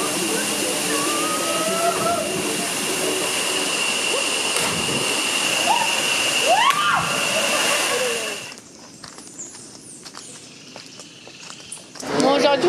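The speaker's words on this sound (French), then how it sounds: "on est maintenant dans les cascades" A waterfall roars in a loud, continuous broadband rush for about eight seconds, with voices over it, before the sound cuts to a quieter scene.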